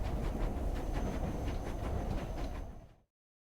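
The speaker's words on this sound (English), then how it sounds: "Another train cutscene thing." Train cutscene from the video game Nancy Drew: The Silent Spy: a steady clickety-clack of rail wheels with rhythmic beats and a rumbling carriage, fairly loud and continuous before it cuts off abruptly into silence.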